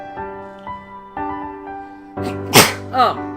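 A single loud sneeze bursts out near the mic during a casual conversation, following a stretch of steady background hum and some quieter sounds.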